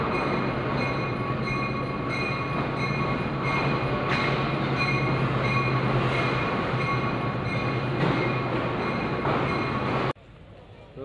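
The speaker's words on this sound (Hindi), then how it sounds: "सारी ट्रेनें डिपार्चर हो रही हैं" Trains pulling out of a busy Indian railway station, a loud sustained rumble of rolling carriages with squealing wheels and faint voices in the background, cutting to near quiet just before the end.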